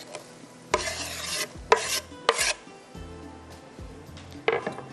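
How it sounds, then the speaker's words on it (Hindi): Coarsely chopped onions (250 g) hit Shahtaj cooking oil, followed by several loud bursts of sizzling and stirring with a spoon clattering in the pot, separated by quieter gaps, no speech. "हमने 250 ग्राम की इतनी प्याज को मोटा मोटा चॉप कर लिया, ये जाएगी शाहताज कुकिंग ऑयल के अंदर"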